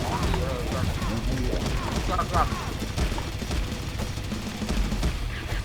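Gunfire in the X-Shot shooting game crackles in rapid bursts amid a dense, noisy battle soundscape, under excited talking.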